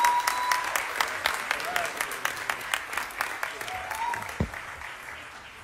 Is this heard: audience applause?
yes